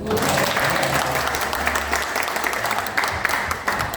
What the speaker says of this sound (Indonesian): Boleh nggak saya minta tepuk tangan?